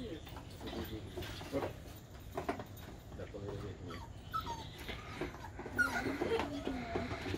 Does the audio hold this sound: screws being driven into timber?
no